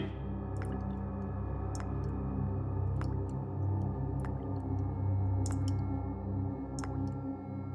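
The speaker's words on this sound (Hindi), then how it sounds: "कुछ टपकने की आवाज आ रही है ना?" Liquid drips in a kitchen, falling as sparse, sharp single drops at irregular intervals over a steady low hum, fairly quiet with no talk.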